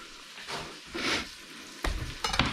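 Chunks of beef for a stew sizzle in a pot as they are stirred, a steady close frying hiss that swells with each scrape and clatter of the spoon, with no talk.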